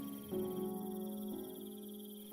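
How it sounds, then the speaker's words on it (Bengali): Crickets chirp at night in a steady, faint trill that carries on without pause, with no other sounds around it. "ঝিঁঝি ছাড়া আর কোনো শব্দ নেই"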